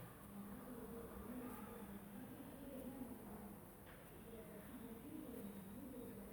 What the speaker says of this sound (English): I am watching a pair of pigeons